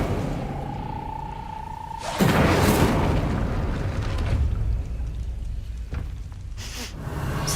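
An Incendio fire spell in Hogwarts Legacy whooshes into a sudden loud burst of flame after a rising tone, followed by a sustained roaring rumble that fades, with another smaller burst near the end.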